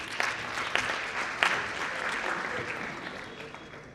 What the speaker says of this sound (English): A big clap for Dr.